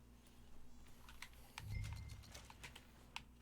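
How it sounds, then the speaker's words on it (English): Horse hooves in the Red Dead Redemption 2 video game, a faint irregular string of clip-clops over a low rumble, quiet and somewhat distant. "Mount your horse."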